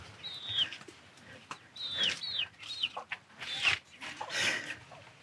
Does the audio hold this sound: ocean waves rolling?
no